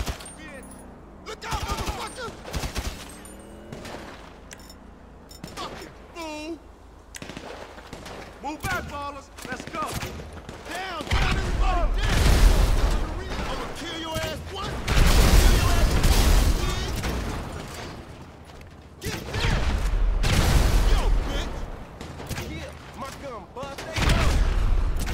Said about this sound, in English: Who's shooting the damn van?